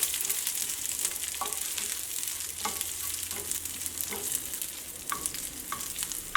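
Chopped onion, ginger and dried red chilies sizzle steadily in a hot pan of oil, with a constant frying hiss and occasional soft stirring scrapes.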